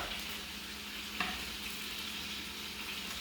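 Scallops fry in a hot pan for a seafood salad, giving a steady close sizzle with one small pop and no talking.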